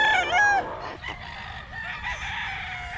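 A late-born banded gamefowl stag crows in a short, high, strained call followed by clucking and softer calls, close by and alone without talk.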